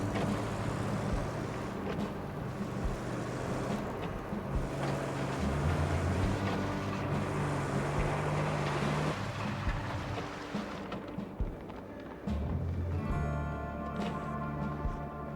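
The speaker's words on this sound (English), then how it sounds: "The engine idles and uses fuel." Truck engine idling in the video game RoadCraft, a continuous low rumbling drone with a shift partway through, steady and moderately loud, no talking.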